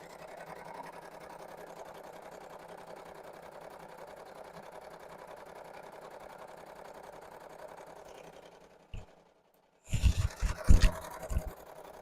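A sewing machine stitches a knit beanie, giving a steady, close mechanical whir for about nine seconds before stopping, followed by brief handling clatter and rustling.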